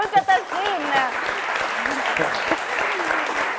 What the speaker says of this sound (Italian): andiamo subito a fare un applauso a uno dei nostri filologici ormai più vecchi